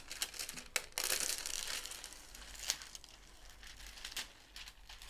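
Plastic cover film peeled back from a diamond painting canvas, giving crinkly crackling rustles with a few sharp ticks and a louder burst early on, close and alone with no talking.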